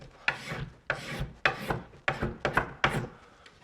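A tool scrapes old caulking off wooden millwork in seven evenly spaced rasping strokes, each starting sharply and fading, close up and fairly quiet, with no talking.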